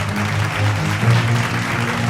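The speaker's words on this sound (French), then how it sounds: "Et un tonnerre d'applaudissements pour tous les mannequins" Sustained crowd applause for all the models at a café fashion show, dense and fairly loud, layered over thumping bass-heavy music.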